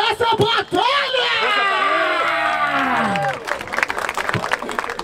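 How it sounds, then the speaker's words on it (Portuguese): A crowd roars with cheers, whistles and clapping after a hip hop battle semi-final at the BDA Hip Hop Tour 2019 in Barueri, the noise swelling loudly and then fading into scattered shouts. "Palmas pra essa batalha!"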